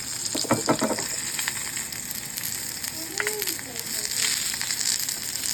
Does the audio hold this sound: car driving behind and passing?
no